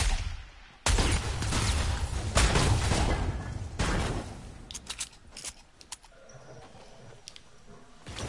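Rifle gunfire in a video game: several heavy, loud shot bursts in the first half, then quieter scattered clicks and pops trailing off toward the end.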